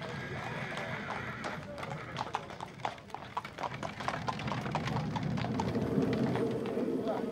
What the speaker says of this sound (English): They fill the town of Appleby with the clatter of wagons and traps and the beating of hooves